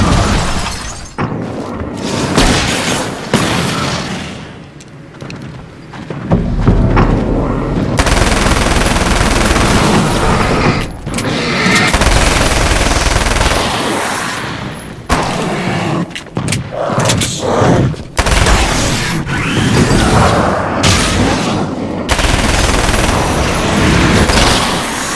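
Gunfire in Alan Wake's American Nightmare: loud, rapid bursts of shots with shattering and heavy thuds come in repeated waves, separated by brief lulls, filling a chaotic combat scene.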